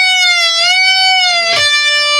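A sustained electric-guitar note rises in a bend and falls back on release, then bends again, loud and alone with a bright, singing tone.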